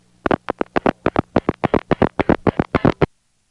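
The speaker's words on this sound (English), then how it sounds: "that's the sound of an ad infinitum bridge stack dropping" A 1A ESS telephone switch drops an ad infinitum bridge stack, producing a rapid train of about twenty sharp relay-like clicks and pulses over three seconds, evenly paced and close, with a faint steady hum underneath before stopping abruptly.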